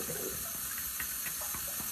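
Tap water runs steadily from a bathroom faucet during face washing, a continuous close hiss with soft splashing that carries on without pause.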